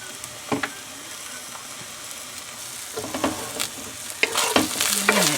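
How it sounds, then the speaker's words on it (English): Pork pieces frying in hot oil in a pan, with intermittent clanks and scrapes of a utensil stirring them, the sizzle steady and close, growing busier toward the end. "these have been cooking for a couple of minutes. Give them a stir, get the other side going."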